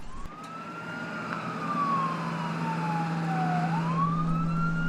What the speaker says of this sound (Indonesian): Mobil ambulans datang.